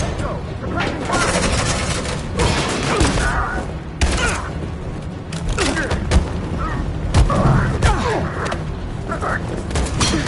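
Gunfire in Detroit: Become Human, with loud, dense volleys of shots and booming impacts rolling continuously through a chaotic battle while people shout over it.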